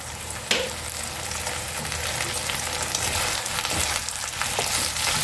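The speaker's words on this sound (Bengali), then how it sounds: "এবার আমি এতে কেটে রাখা টমেটো দেবো।" Chopped tomato sizzles and fries steadily in a pan with hyacinth beans and shrimp, a dense continuous crackle with faint stirring, close and even throughout, no voices.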